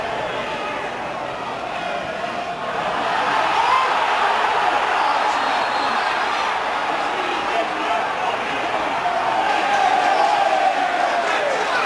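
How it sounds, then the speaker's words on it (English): A football stadium crowd at Plymouth Argyle versus Kidderminster Harriers, a dense, steady roar of many voices with scattered ironic clapping that swells louder after a few seconds and holds on, continuous and fairly close. "Sarcastic applause is in favour of the referee because Argyle have at last been given a free kick"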